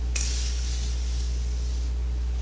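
A single short hiss of a Morphe setting spray misting onto a face, close up, starting abruptly and fading over about a second, with steady low hum beneath and no talking.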